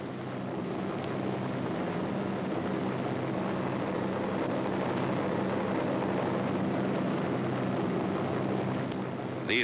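A World War 2 aircraft flies over Normandy during the D-Day airborne invasion, its engine a steady, loud continuous drone with a windy rush throughout, no voices.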